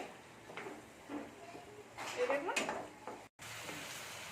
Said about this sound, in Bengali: আমি একটু নেড়ে নিচ্ছি টমেটোগুলোকে আমি খুন্তি করে একটু একটু টিপে দিচ্ছি যাতে ঘাঁটা হয়ে যায়